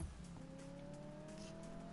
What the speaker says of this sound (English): That was a decent burnout.